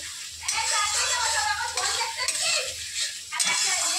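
Ginger and spices sizzle steadily while being stirred and fried in a pan for a meat dish, a loud continuous frying hiss with scraping stir strokes, briefly interrupted, and a voice talking underneath.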